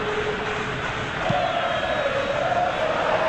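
A stadium crowd of supporters in a football video game, a steady wash of chanting and roar that holds at an even level throughout.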